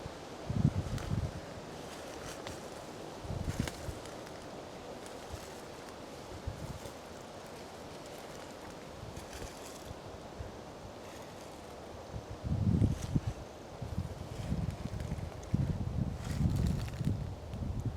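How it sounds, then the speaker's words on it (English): Wind gusts buffet the microphone outdoors on public land in uneven bursts of low rumble, with soft rustling of leaves and a quiet breezy background between the louder gusts. "I'm sorry about the wind, if that wind's making a lot of noise."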